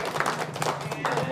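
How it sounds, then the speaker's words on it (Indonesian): Elderly residents at a care home clap their hands in a quick, uneven patter of soft claps, with talking over it throughout. "coba tepuk tangan biar sehat."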